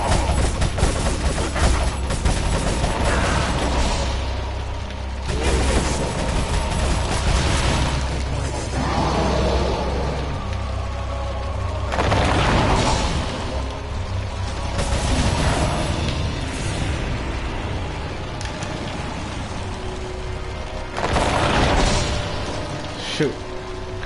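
Automatic Uzi fire rattles in repeated loud bursts during a Resident Evil 4 boss fight against Ramon Salazar, layered over steady game rumble and music, with a player talking throughout.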